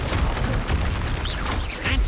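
The Expulso blasting spell in Hogwarts Legacy erupts as a loud, booming explosion with a rolling low rumble and crackling debris, close and without talking.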